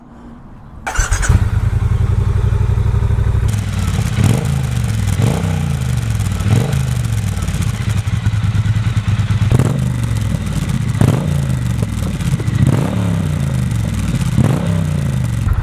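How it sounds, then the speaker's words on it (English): A 2017 Triumph Bonneville T120 Black fitted with a British Customs Sleeper Pro exhaust fires up, then settles into a loud, throaty idle broken by a regular series of sharp throttle blips about every second and a half. No one speaks. "reviewing the British Custom Sleeper Pro exhaust for the 2017 Bonneville T120 Black"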